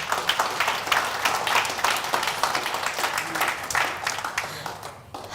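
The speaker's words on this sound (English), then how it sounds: "You can give her a round of applause." Awards-event audience applauding at a businesswomen's ceremony, a steady wash of many hands clapping at moderate distance that holds evenly and tapers slightly near the end.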